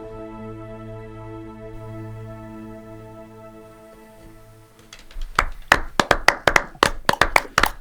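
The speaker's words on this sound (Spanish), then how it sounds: "Aplaudimos nosotros, aplaudían los tertulianos en sus casas." Several people clap in an uneven burst after a stretch of sustained low hum, small-group applause at a short-story contest event, close and fairly loud.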